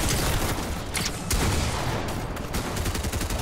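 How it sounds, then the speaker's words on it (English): Rapid ray gun fire in Fortnite, a dense stream of loud zapping shots with sharp bursts, continuous and close, no talking over it. "Oh my gosh, this ray gun's insane."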